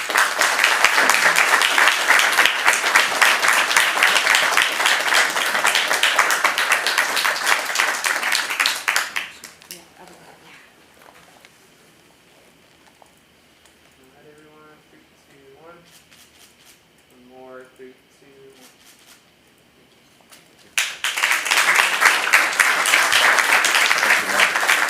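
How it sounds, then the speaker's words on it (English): Applause in a city council chamber, a loud dense burst of clapping lasting about nine seconds, then a quieter stretch with speech, before a second strong round of applause breaks out near the end. "One big round of applause for everybody and all the proclamations."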